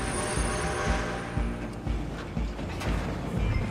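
A train in Red Dead Redemption 2 rolls along close by with a loud steady rumble, rhythmic wheel clacks over the rails and faint metallic squeal.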